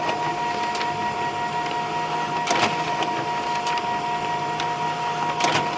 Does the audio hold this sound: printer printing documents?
yes